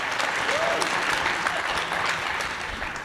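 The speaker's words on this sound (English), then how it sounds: "Give them a nice round of applause." Dense, loud applause from an audience at a congressional debate for California's 30th District candidates, sustained throughout with a few voices mixed into the clapping.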